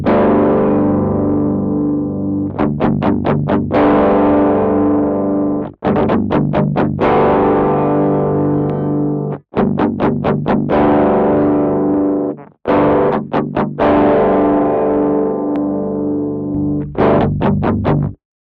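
An electric guitar runs through a Faux-Tin 808 overdrive pedal with its pre-high-pass filter engaged, giving loud, distorted sustained chords with fast rhythmic strummed bursts, broken by a few brief silent gaps.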